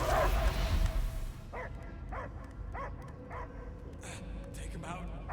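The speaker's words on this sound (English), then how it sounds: "I hear only barking." A dog in a video game barks in a rapid string of sharp, repeated yips and woofs over a low background rumble, fairly close and loud, with speech heard beneath it.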